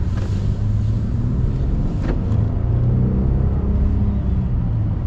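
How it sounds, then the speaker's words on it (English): A Nissan Frontier V6 engine accelerates in Orem traffic, a loud continuous low rumble from inside the cab with a steady drone and slight rising pitch, one brief click-like knock near the middle, and no talk. "Love this V6. It's got great power."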